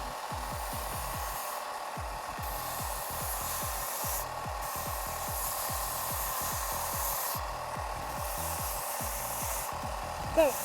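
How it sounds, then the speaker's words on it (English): A disc sander grinds against an EVA foam horn, a steady close abrasive rasp running throughout with a constant motor hum, no talking. "if you're using a disc sander like this, always sand on the face going downwards"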